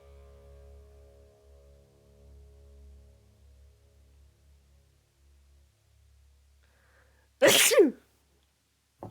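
A single sharp, loud sneeze bursts out near the end after a stretch of low hum and near silence.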